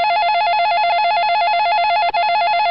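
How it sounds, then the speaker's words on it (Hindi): A phone rings with a steady electronic warbling tone, loud and close, pulsing evenly throughout with no voices. "फोन आया है"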